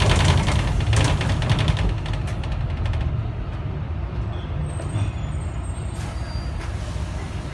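A London tour bus pulls into a stop with a steady low engine rumble close by and a broad hiss of air brakes near the start, easing into a quieter idle.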